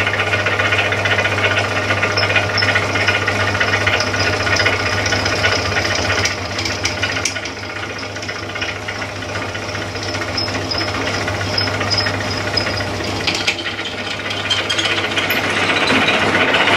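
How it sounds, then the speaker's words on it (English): A drill bores holes for a buggy differential, a loud, continuous whirring drone with a steady low hum and a rough, chattering texture that dips slightly midway and then resumes at full strength. "Just about the worst drilling job I've ever done, but the holes are there."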